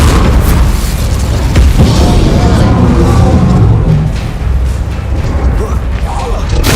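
An Incendio fire spell cast in the Hogwarts Legacy video game: a loud, sustained roaring burst with booming low rumble and crackling, continuous over several seconds, with a voice mixed in.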